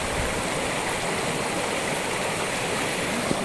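A mountain stream and waterfall on a forest trek in Wayanad, a steady broad rushing roar of flowing water, close and unbroken, with no voices.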